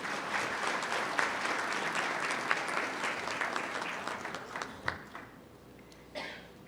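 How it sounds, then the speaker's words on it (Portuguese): Applause from the audience at a medical council launch event, a sustained round of clapping from a large hall that thins out toward the end with a few scattered final claps. "uma salva de palmas."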